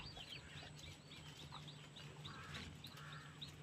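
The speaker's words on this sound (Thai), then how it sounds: "ตอนนี้ได้ยินเสียงลูกไก่มา ลูกไก่เพิ่งฟักออกมา" Newly hatched Hmong black chicks cheep in a thin, repeated chorus of high chirps, faint and somewhat distant over a low background hum.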